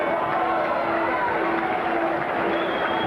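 A boxing crowd at a Buster Mathis Jr. versus Mark Young fight fills the arena with a continuous, fairly loud wash of cheering and murmur, with a voice partly mixed in.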